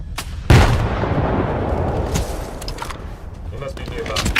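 Grenade blast and gunfire in the video game STALKER 2: a sudden heavy boom followed by scattered sharp shots and rumbling, loud and close.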